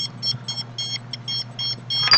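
A handheld signal detector sounds its alarm in a building, a rapid repeating series of short electronic beeps in quick bursts over a steady low hum, loud and close.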